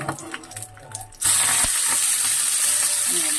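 Fish wrapped in banana leaf sizzles and fries in a pan, a quieter crackle building into a loud, steady sizzle after about a second, with no talking.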